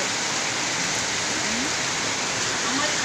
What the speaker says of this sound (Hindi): आप देख सकते हैं यहाँ बहुत तेज बारिश आ